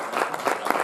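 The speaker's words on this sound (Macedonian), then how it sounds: "Може, аплауз." An audience breaks into a short burst of lively clapping at a stage show, dense and close, with no voices on top.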